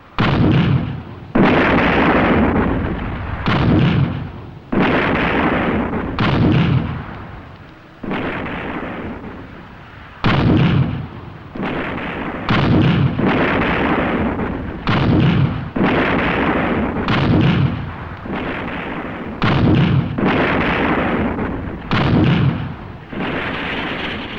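Artillery guns fire again and again in a loud, irregular series of heavy booms, each one a strong blast that rolls away with a rumbling tail, with short gaps between shots.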